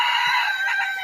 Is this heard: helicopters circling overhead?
no